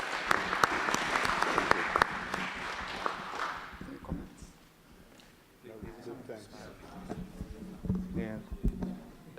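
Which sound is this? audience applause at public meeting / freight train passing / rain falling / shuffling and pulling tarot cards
audience applause at public meeting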